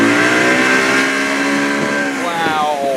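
A Lund boat's outboard engine roars loud and close, its pitch climbing steadily as the boat accelerates hard across the water, a sustained strained whine with no break.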